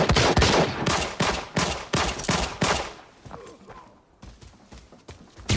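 Gunfire in the video game Arena Breakout: rapid, close volleys of sharp shots in uneven bursts, thinning out briefly before another round starts.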